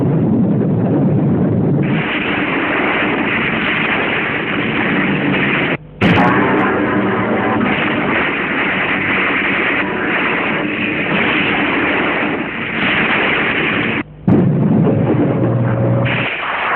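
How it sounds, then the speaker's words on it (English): Artillery and aerial bombardment during the Biafran War pound without letup as dense, loud, continuous rumbling blasts, broken by two brief sharp cuts in the sound. "the mercenaries came under endless artillery and aerial bombardment"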